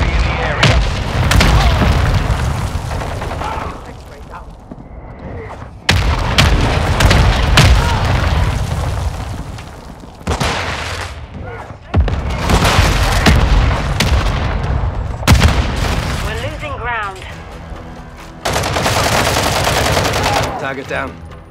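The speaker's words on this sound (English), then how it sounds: "Hostile mortar strike near your position!" Mortar strikes hit in the Call of Duty Modern Warfare 2 team deathmatch: loud booming explosions and rattling gunfire land in repeated bursts separated by short lulls, close and forceful.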